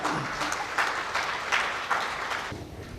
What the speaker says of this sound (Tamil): அதனால் உடனடியாக உங்கள் கைத்தட்டலோடு நடிகர் இயக்குனர்் ரமேஷ் கண்ணா அவர்கள்.